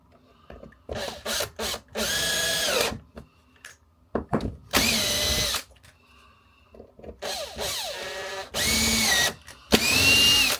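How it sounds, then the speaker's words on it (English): A regular handheld power drill bores into wood in several loud bursts, spinning up and cutting for a second or two at a time with short pauses and handling noise between them. "So this is my regular drill that I use quite a lot."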